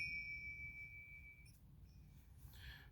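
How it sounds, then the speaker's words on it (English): A Rebel Sabers Vigilante lightsaber hilt rings faintly with a thin, sustained metallic tone that fades out, followed by a second soft chime near the end, all quiet with no talking. "Nice, even a nice little ringing sound to it just because of the make of this saber."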